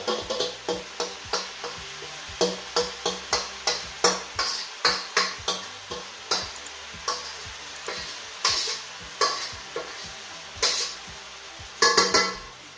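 Chicken, tofu and pork roll being stir-fried in a pan, with a steady sizzle cut by a long run of sharp, regular spatula scrapes and clanks against the metal, close and loud throughout, nobody talking.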